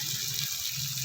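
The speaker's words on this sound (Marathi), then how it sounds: "थोडंसं पाणी टाकायचं आहे" A brief, steady rush of water splashing into a pan, close by and fairly soft, lasting about a second.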